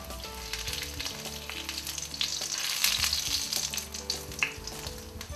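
Tikki frying in a pan over low heat, a close, continuous crackling sizzle with bubbling spatter and occasional louder pops.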